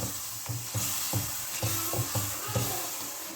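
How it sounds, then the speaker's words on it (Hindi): Masala with turmeric and coriander fries in a pan, sizzling steadily while a spoon stirs and scrapes it in an irregular rhythm, close and moderately loud. "हाफ टी स्पून मैंने हल्दी डाल दी है, और इस मसाले को अच्छी तरह भूनेंगे।"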